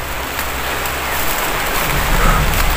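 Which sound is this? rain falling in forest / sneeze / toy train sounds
rain falling in forest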